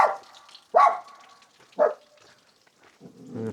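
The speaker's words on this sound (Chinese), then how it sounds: "这小狗子" A small dog at a rural hillside village by a flowing mountain-spring channel gives a few short, loud barks spaced about a second apart, with the steady trickle of running water underneath.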